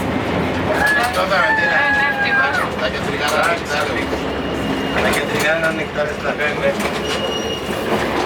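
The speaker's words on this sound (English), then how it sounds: "nobody else has been on an old tram like this. 100 years old." A 1925 ZET M24 tram in Zagreb rumbles and clatters along the rails, wheels squealing and metal creaking, while people talk over the loud, continuous ride.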